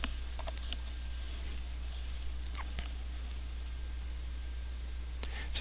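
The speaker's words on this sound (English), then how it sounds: "then I'm going to type in the options" Scattered keystrokes on a computer keyboard entering options in a checkbox editor, light clicks in short irregular bursts over a steady low hum, no talking.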